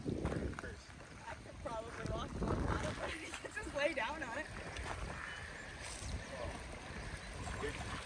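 Rushing river rapids with a kayak passing through, watery splashes and wind buffeting the microphone, while people talk and call out over the flow.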